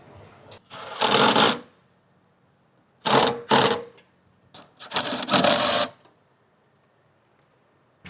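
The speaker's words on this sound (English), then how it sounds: "with 4 13mm bolts, secure the battery to the mounting plates" A ratchet tightens 13mm bolts that fasten a 72V 105Ah lithium battery to the mounting plates of a MOKE golf cart, in three separate bursts of quick clicking with quiet gaps between them.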